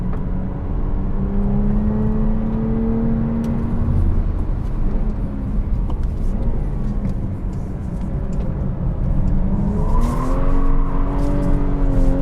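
A BMW 340i driven hard on a race track with the rear stepping out in oversteer, its engine droning steadily with rising and falling pitch sweeps throughout, continuous and close with no talking.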